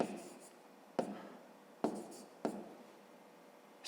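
Pen strokes scratching on paper while a Grade 5 maths answer is written out, four short bursts of writing separated by brief pauses, close and moderately loud with no talk.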